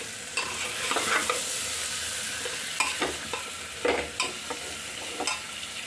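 Vegetables and tomatoes frying in a pan, with a continuous sizzle broken by repeated sharp scraping strokes of a spoon stirring at an irregular rhythm, close and fairly loud.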